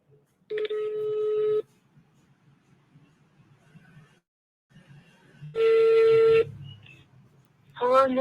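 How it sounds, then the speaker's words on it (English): A phone call rings on the line in two long, steady electronic ring bursts separated by a quiet gap, with a third burst starting at the end, over faint background noise. "I am actually going to call from another phone number, so you can see how it is looking in real time."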